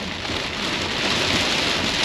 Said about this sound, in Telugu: చాలా పెద్ద వాన కొడుతుంది